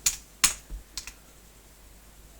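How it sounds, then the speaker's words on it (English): A new computer keyboard being typed on, with a handful of sharp, quiet keystrokes tapped out in an uneven rhythm and brief silences between them. "I've got a new keyboard, guys. I'm struggling with it."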